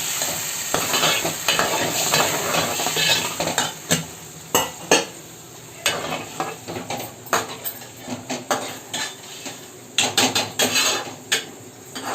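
Tamarind juice poured into chili powder frying in a pan for a taro root tamarind curry, with steady sizzling, stirring and clinks of a spoon against the pot, loud and close.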